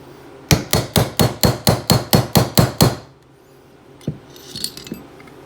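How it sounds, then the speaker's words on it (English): A punch struck with a hammer drives out the hammer pin of a SAR USA K2-series pistol: about eleven sharp, evenly spaced metallic taps in a steady rhythm, close and loud, then quiet with a few faint knocks. "We're going to knock out the hammer pin."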